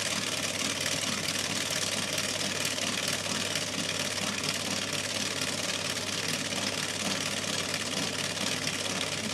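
A Speedy Chef 2 kitchen mixer runs at speed 1, giving a steady, close, continuous motor whir with a dense mechanical buzz that holds level and unbroken throughout.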